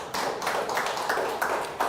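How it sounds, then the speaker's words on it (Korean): A church congregation applauds during a Sunday worship service, a brief continuous wash of many hands clapping together in a large hall, fairly loud and steady. "하나님께 영광의 박수로"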